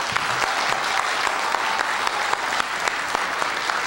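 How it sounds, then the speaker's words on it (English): Audience at a town meeting applauding steadily, a dense wash of many hands clapping close by throughout, with no talk over it. "Chief McCurdy, please hold your applause."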